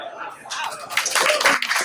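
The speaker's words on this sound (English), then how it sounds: "give her a big round of applause" Applause from a crowd at a school and YMCA fundraising event, a broad wash of clapping that builds and stays steady, with a voice speaking over it.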